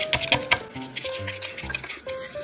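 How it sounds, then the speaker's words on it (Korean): A utensil clicks and clatters against a bowl while mixing green onion kimchi seasoning of garlic, anchovy sauce, sugar and ginger. A few sharp taps come first, then quieter scraping and stirring. "섞어줄게요."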